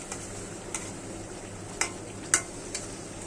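Small fish fry with spices in a pan under a soft, steady sizzle, with a few light clicks of a utensil stirring, quiet and close.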